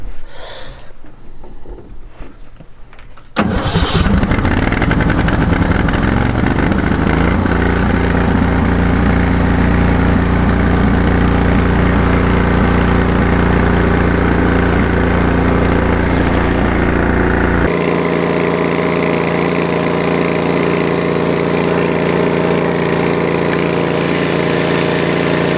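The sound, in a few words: high pressure pump truck engine running at high throttle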